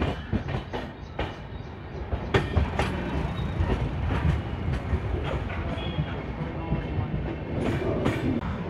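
The 12779 Goa Express passenger train runs on a diverted route after Belapur, with steady rumbling wheels and a rhythmic clickety-clack of rail joints heard from inside a coach.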